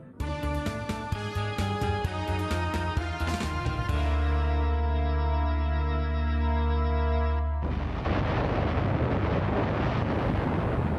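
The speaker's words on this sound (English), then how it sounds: "there's about to be one almighty explosion" A massive, roaring volcanic eruption blast erupts and rumbles on, deep and loud, giving way to a sustained thundering roar with no voices.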